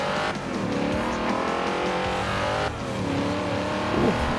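A car engine in the racing video game Forza Horizon 2 revs and roars continuously, with shifting pitch, a brief dip and tire squeal near the end, loud and up close.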